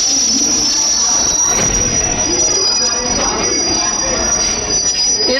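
A passenger train pulls into Kacheguda railway station, its wheels letting out a loud, sustained high squeal over a rumbling rolling roar, heard close from on board and continuing throughout.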